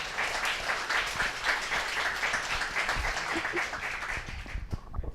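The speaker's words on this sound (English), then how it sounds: "Can you give them a round of applause for that?" Steady audience applause from a crowd at a speaking event, even continuous clapping at moderate volume that thins slightly toward the end.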